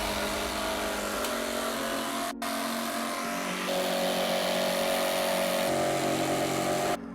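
A jigsaw with its blade angled at ten degrees cuts an access hatch in the lid of a Jeep JKU cargo platform, a loud, close, continuous buzzing whine that pauses briefly and shifts pitch slightly as the cut goes on.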